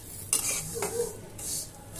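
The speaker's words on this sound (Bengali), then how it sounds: "এবার এটা ভালো করে নেড়ে চেড়ে নিব।" Lachha semai vermicelli stirred in ghee in a pan, a few scraping, rustling strokes of a utensil against the pan with a faint sizzle, close and brief.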